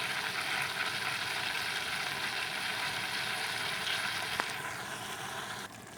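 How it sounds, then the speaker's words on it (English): Tomatoes sizzle in a pan while being stirred for a vegetarian barbunya bean dish, a steady faint hiss with one brief click near the end. "So we're just going to keep stirring this up with the tomatoes for about a minute."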